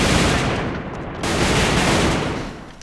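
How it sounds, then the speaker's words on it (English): Heavy automatic gunfire in the online shooter game AVA during an esports match, loud and dense, with a continuous barrage of rapid shots and no talk. "too much gunfire in his direction"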